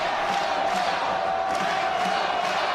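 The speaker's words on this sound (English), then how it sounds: "Crowd making some noise." A crowd at a men's college volleyball match roars in a sustained, steady wash of cheering and shouting in an indoor arena, with no single voice standing out.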